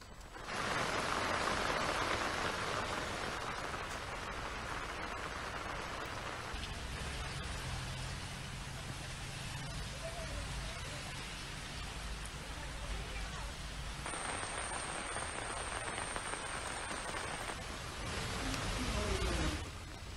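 Heavy monsoon rain falls steadily during flooding in the low-lying Kuttanad area of Kerala, a dense, continuous hiss of drops on water and surfaces with no letup.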